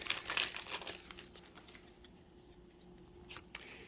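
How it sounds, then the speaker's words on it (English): Scissors snip open the plastic wrapper of a Jumpstart 2022 Magic card pack, with crisp cutting and crinkling of foil packaging up close at first, then quieter rustling and handling. "I'm thinking about just going back to the scissors here."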